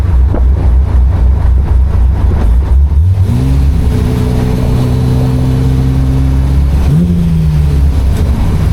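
A go-kart with a C6 Corvette engine revs hard and loud at full throttle, pitch climbing as it accelerates, then dropping and surging again, close and continuous throughout.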